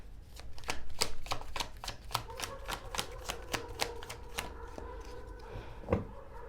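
Tarot cards shuffled by hand in a rapid, even run of close crisp riffling flicks, then slowing into a few separate snaps as a card is drawn, with a faint bump near the end.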